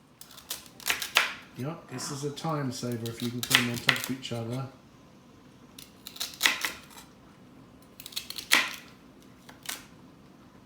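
A knife dices white and red onions on a cutting board in quick bursts of sharp, close taps, with someone talking in between the chopping runs.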